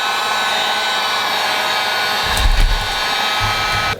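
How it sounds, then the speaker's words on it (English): A heat gun blows with a constant, loud, close whir and hiss as it heats a badge on a BMW E46 330i ZHP for removal, with low rumbling handling noise partway through. "heat gun, heat it up"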